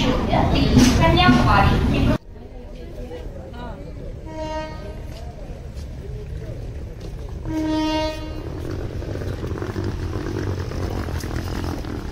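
Train pulling into a station on the Berhampur to Puri route, with two horn blasts standing out over a steady rumble and platform chatter, after a loud voice at the start.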